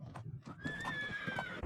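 Horses neigh and whinny while hooves clop in an uneven rhythm. A long, high whinny rises over the hoofbeats, all fairly faint and brief.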